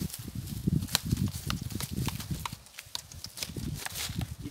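A horse walks on a ranch, steady soft clip-clop hoofbeats in an uneven rhythm, faint and fairly close, with no talk.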